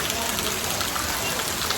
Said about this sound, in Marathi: पाऊस आलाय एन्जॉय करा बस